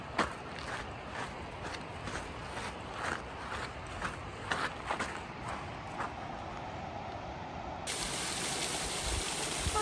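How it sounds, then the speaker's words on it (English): Rushing water from a waterfall beside the Mount Hood Timberline Trail in Oregon, a steady close hiss with footsteps crunching along the path over it, the water growing brighter and louder near the end. "Waterfall."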